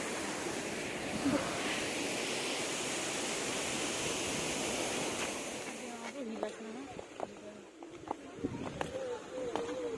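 A river near Cherrapunji rushes in a dense, even wash of flowing water; after about six seconds it drops lower and voices talk over the softer stream.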